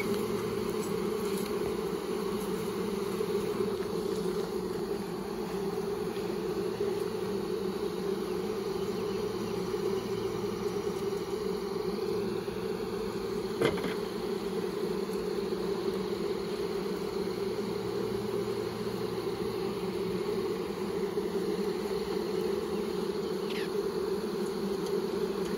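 A huge honey bee swarm on a tree limb in a backyard hums continuously and close, a dense steady drone that holds without pause throughout, with no talking over it.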